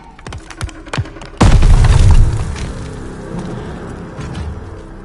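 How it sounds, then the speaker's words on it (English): A grenade goes off in the World War II shooter Call of Duty: Vanguard, a sudden loud booming blast after a few sharp thuds, followed by a long rumbling debris tail that fades into battle ambience. "Grenade! Get down!"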